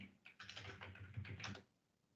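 Computer keyboard keys clatter in a quick run of close, light taps for about a second and a half, then stop into quiet.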